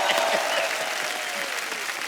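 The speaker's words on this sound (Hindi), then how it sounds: "एक बार हमारी ऑडियंस के लिए भी ताली हो जाए।" Studio audience applause on a comedy talk show, a dense steady wash of clapping from a crowd at moderate loudness, with a voice briefly audible beneath it.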